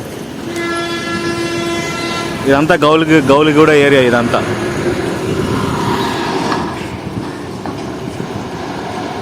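A metro train rumbles past near a Hyderabad bus station, with a loud, sustained horn blast midway, while someone talks over the steady rolling noise.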